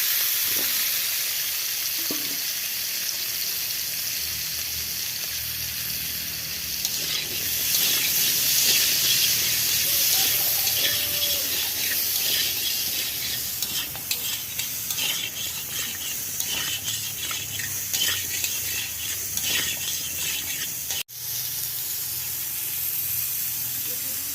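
Potatoes and vegetable stems frying in hot oil for a pumpkin dish, a continuous close sizzle and hiss with stirring scrapes and a sharp knock near the end.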